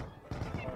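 Short bursts of gunfire from the video game Heavy Fire: Shattered Spear, several rapid shots in quick succession over a low background.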